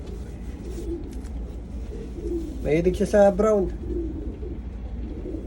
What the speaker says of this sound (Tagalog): Ay, grabe mga kalapati rito.